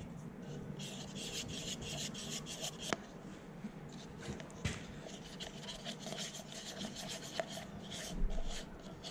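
Silicone being stirred with a cut-off wooden tongue depressor, scraping into the corners of a mixing pot, a continuous close rubbing and scraping with a few sharper knocks, fairly quiet, no talk.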